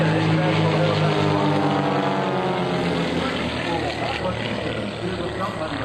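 Aerobatic propeller airplanes of the Split Image Team flying a maneuver at the 2003 NAS/JRB Willow Grove air show, a loud, steady engine drone with slowly shifting pitch that fills the whole span.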